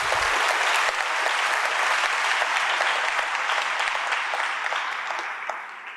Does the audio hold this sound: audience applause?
yes